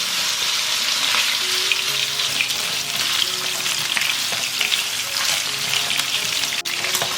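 Pork ribs pan-frying in a little cooking oil until golden, a loud, steady sizzle and crackle close by, with occasional scrapes of stirring and no talk.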